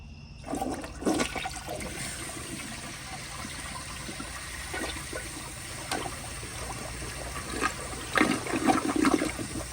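A 1978 Eljer Emblem toilet flushes close by, a steady rushing of water with intermittent gurgles and sharper splashes near the end, with no talking over it.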